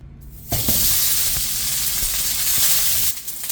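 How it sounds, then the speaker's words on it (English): Halved whole onion dropped into a hot pan, frying with a loud steady sizzle that starts abruptly and holds evenly for about three seconds before easing off, close up with occasional crackles while preparing Mexican pork in red chile sauce. "Next, we're going to add in 1 whole onion that's been cut in half."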